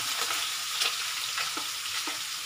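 Pork humba fries in a pan with a constant bright sizzle of hot oil, broken by a few soft stirring or flipping sounds.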